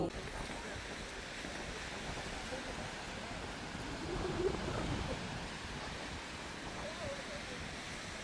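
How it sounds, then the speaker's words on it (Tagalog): Steady wind at the seaside in Cabourg, Normandy, a continuous broad rush buffeting the microphone with faint surf beneath and brief voices in the background. "Biglang lumamig. Mahangin. Mahangin na siya."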